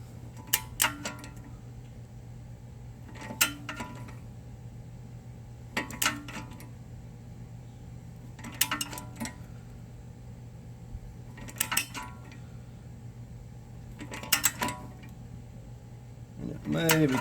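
A torque wrench tightening a bolt to 45 foot-pounds during tie rod and stabilizer link replacement on a 2006-2011 Hyundai Accent: bursts of sharp ratcheting clicks every few seconds over a steady background hum.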